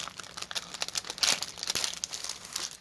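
Plastic cross stitch kit packaging being opened, crinkly plastic crackling and rustling in quick close bursts, with a sharper tearing crunch midway, no talk.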